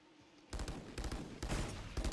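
Pistol fire in Valorant during a competitive match, several quick bursts of sharp cracking shots in rapid succession, fairly distant and clipped between short pauses.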